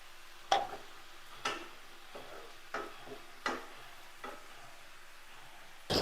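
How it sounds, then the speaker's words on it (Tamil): Drumstick leaves sautéing in a pan, stirred with a spoon in regular, fairly faint taps and scrapes roughly once a second over a quiet background. "இடையில இந்த மாதிரி அப்பப்போ கிண்டி விட்டுக்கணும்."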